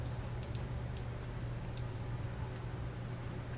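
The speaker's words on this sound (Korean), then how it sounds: "크래프트 워크라고 입력하겠습니다." A computer keyboard is tapped in a few light, scattered keystrokes over a steady low background hum, with no voices.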